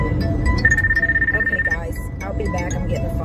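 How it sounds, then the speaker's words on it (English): A phone rings with a steady electronic ringtone tone held for about a second, heard in a store setting over background chatter and ambient noise. "I'm getting a phone call."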